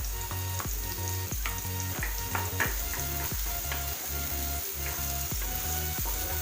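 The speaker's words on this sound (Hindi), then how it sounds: "तो तेल हमारा गर्म हो चुका है, तो इसमें मैं ऐड कर दूँगी चॉप किया हुआ प्याज, और ये हरी मिर्च भी ऐड कर दूंगी।" Chopped onion and green chili fry steadily in hot oil, giving a continuous close sizzle with crackles and occasional scraping clicks from stirring.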